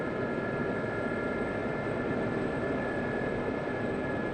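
An Aérospatiale Gazelle helicopter settles down to land, its turbine whine and steady rotor roar filling the cabin continuously and loudly throughout.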